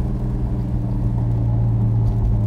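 A 1969 Dodge Super Bee with a 383 V8 rumbles steadily up close, giving a deep, even low-pitched engine drone without clear rises in revs.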